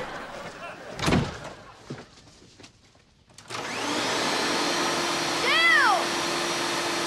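A vacuum cleaner switches on partway through and runs steadily and loudly at close range in a household, after a few knocks and bumps, with its pitch wavering briefly.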